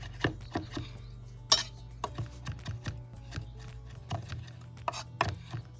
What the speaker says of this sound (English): Chop that up nice and fine.